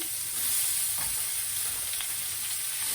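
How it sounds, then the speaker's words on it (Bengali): Snake gourd goes into hot oil with nigella seeds and dried chili, and it fries with a steady, dense sizzle and hiss throughout, with faint stirring scrapes in the pan. "এই যে তেলে দিয়ে দিছি কালো জিরা আর শুকনা মরিচ আমি চিচিঙ্গাটা দিয়ে দিলাম"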